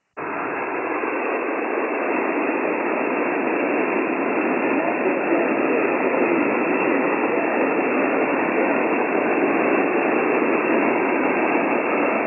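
Steady band-limited static hiss from a ham radio receiver, the weak signal having faded into the noise floor, loud and unbroken for the whole stretch with no voice coming through.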